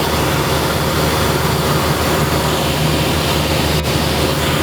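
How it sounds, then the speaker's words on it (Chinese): Small private airplane descending toward the airport it took off from to land, a loud steady engine drone and cabin roar filling the space without a break, heard from inside the cabin. "现在我们即将要回到我们刚刚起飞的机场，也就是现在准备要降落了"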